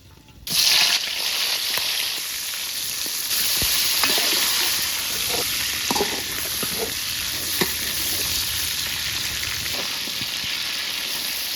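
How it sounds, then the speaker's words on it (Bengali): Large prawns frying in hot oil on a stove start with a sudden loud burst of sizzle, then settle into a continuous close crackle with occasional sharp pops and light stirring scrapes. "মাছটা ভাজার জন্য চুলাই করে দিলাম তেল"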